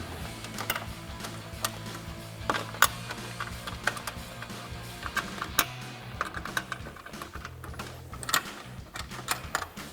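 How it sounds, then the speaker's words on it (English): A 10mm socket wrench tightens the four upper grill bolts on a 2014-2015 Sierra 1500 truck, giving scattered sharp ratchet clicks and metallic ticks over a steady low hum, close up, with no talking. "take your 10mm socket and tighten all of those down"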